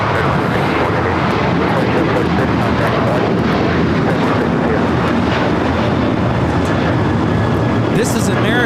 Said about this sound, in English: This is American Airlines 2746 taking off to Dallas Fort Worth on the 737-800.